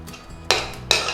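Duck red curry stirred in a pan, two sharp metallic scrapes of a utensil against the pan, close and distinct.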